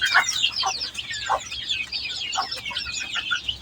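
Brooding hens cluck in short repeated bursts among other chicken sounds, close and fairly soft, over a steady background hum with no talk.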